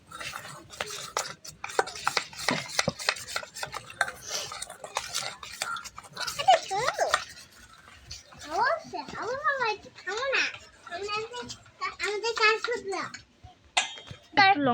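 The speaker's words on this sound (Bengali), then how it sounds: "আর অল্প একটু বেকিং সোডা দিয়ে নিচ্ছি। ভালো করে মিশিয়ে নিব।" Pakora batter with baking soda being stirred by hand in a bowl, repeated scraping and tapping strokes at close range, heard under intermittent talking and some high chirpy voice sounds.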